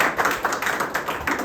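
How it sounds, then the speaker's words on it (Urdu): Audience at an academy gathering for JEE and NEET students applauding: loud, dense clapping from many hands in a steady patter that fills the room, with no talk over it. "زوردار تالیاں"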